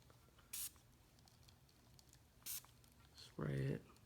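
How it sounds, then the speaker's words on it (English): Two short hissing spray bursts of accelerator onto CA glue on a carbon speaker cone during a recone, quiet and close, followed by a louder, longer spray. "spray it with accelerator just to kind of keep it from running all over the place on us"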